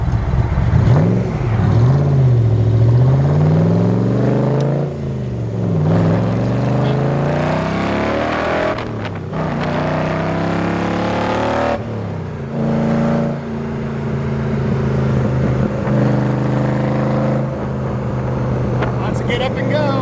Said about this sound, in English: just giving it a cruise around 55 or so, actually was not as loud exhaust-wise as I thought it was